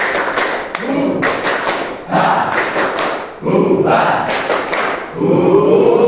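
A class of students does a rhythmic group spirit clap in bursts of quick, unison claps, loud and close, with voices chanting and calling along between the clapping.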